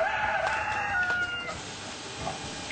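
Animatronic cockerel crowing at the Flamingo Land theme park, a drawn-out mechanical cock-a-doodle-doo that is loud and close, heard alone with no talk.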